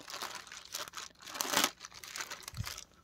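A large boxed Ginyu Force figure package being opened up close: crinkling plastic and rustling packaging in quick bursts, swelling to a louder tearing crackle midway, then a soft thump.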